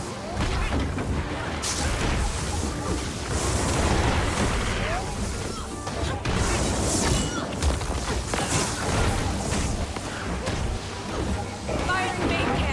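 A main cannon firing in Guild Wars 2 amid dense game combat: repeated booming blasts and crashes layered over busy effects, with a voice talking throughout.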